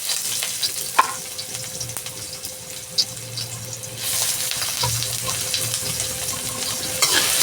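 Chopped onion sautéing in a pan for chicken sotanghon in a home kitchen, a steady close sizzle and frying hiss with occasional stirring clicks and scrapes, and no talk.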